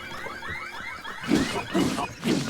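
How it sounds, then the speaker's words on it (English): Constructs in Zelda: Tears of the Kingdom sound an alarm, a wavering electronic siren-like tone mixed with several heavy combat thuds and clashes during a fight. "So they have an alarm"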